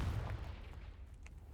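A Confringo blasting spell goes off in the wizarding game Hogwarts Legacy with a single dull, low boom that quickly decays into faint rumbling and small pops.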